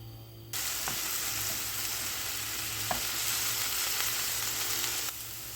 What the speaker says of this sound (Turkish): Şimdi minik küpler halinde doğradığım havuç, kabak ve patatesimi tavama ilave ederek kavuruyorum.